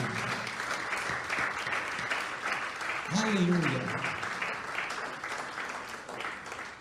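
A church congregation applauds in a steady, sustained wash of clapping while a preacher speaks and exclaims over it.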